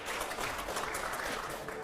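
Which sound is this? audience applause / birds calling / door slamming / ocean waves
audience applause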